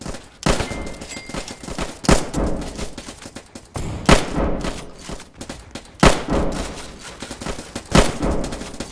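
Rifle fire in the Roblox game Trenches, sharp gunshots cracking out at roughly two-second intervals, each followed by a short rattling tail, loud and close.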